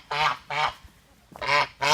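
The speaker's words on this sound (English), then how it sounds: "This is On Guard, our goose." A farm goose on a mountain homestead gives four loud, nasal honks in two close pairs, separated by a short quiet gap, close by with no talking.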